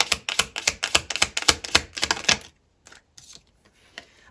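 A tarot card drawn from a deck, marked by a fast run of crisp, close card riffles and slaps, then a few faint taps before the handling settles into near silence.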